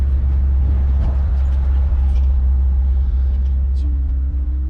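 A loaded log truck idles at a red light, a deep continuous diesel rumble heard from the cab, with a faint tone rising near the end and a voice talking over it.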